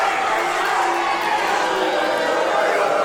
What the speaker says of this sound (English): the crowd rightfully booing that man